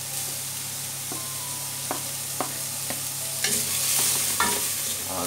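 Garlic, onion and ginger sauté in a pan for chicken tinola soup, a steady close sizzle broken by sharp clinks and scrapes of a utensil stirring against the pan, with no talking.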